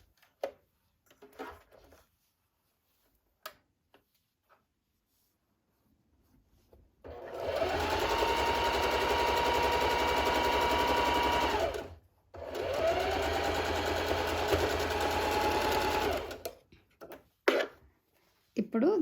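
A sewing machine stitches a baby frock in two steady, close runs of whirring with a short break between them, and speech comes before and after the stitching.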